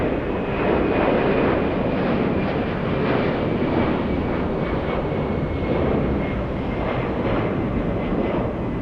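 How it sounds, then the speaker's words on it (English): A Boeing 767 with twin CF6 engines takes off from an airport runway, a loud, steady, broadband jet roar that holds strong and unbroken throughout, with a faint high whine riding on top. "We got a big 767 taking off."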